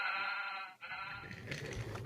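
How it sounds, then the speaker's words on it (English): Sheep bleat over a steady outdoor background, with a short pause partway through and a rougher, louder stretch toward the end; no one speaks. "With Bertram's help, Ivo Hugh was able to deliver the sheep to their new field."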